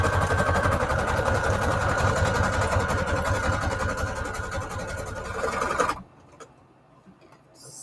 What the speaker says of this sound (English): So hang on, I just gotta sew it up here.